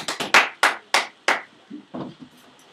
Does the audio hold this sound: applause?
yes